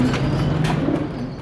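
Pigeons of an old thick-headed Indian breed coo softly in a loft in Pakistan, a brief low throaty burble close by with no talking.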